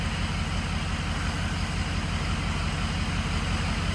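A vehicle engine fitted with a new engine harness idles steadily, a loud, close, even low rumble with a regular pulsing beat and no voices over it.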